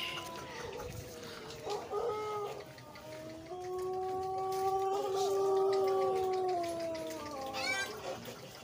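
Pelung chickens at a chicken contest in Cianjur crow in long drawn-out, wavering calls, several overlapping and fairly near, with light crowd noise around them.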